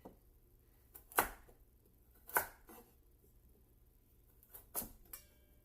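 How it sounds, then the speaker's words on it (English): A knife cuts through large carrots while roasted vegetables are being prepared, giving three or four sharp, separate chops spread apart, quiet and close, with no talk. "I think maybe I'll just cut up 2 of these carrots because they're really big"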